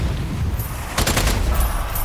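Rapid SMG bursts in the co-op shooter Strange Brigade, loud crackling volleys that thicken around the middle of the short stretch over a dense, noisy game soundscape.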